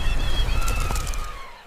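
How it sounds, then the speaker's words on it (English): A bird's shrill, tonal warning call rings out over a rustling forest background, with a few sharp chirps in the middle before fading. "One desperate call, his desperate warning spreads through the forest"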